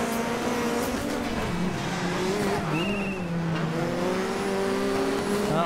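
Race car in the DiRT 3 video game, engine revving and shifting pitch while tires squeal through a skid, loud and continuous throughout.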